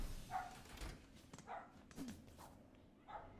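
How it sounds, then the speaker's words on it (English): Puppies barking and yipping in Hollow Knight: Silksong, several short, fairly faint yelps scattered over a soft background in a game setting. "There are puppies barking."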